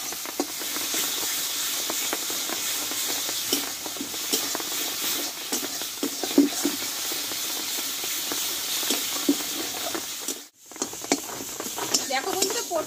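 Pointed gourd paste fries with spices in a pan, a continuous hissing sizzle with scattered stirring scrapes that briefly drops out near the end before resuming.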